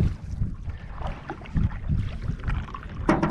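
A canoe is paddled across calm early-morning coastal water in British Columbia, with soft rhythmic strokes and splashes close by and some wind noise.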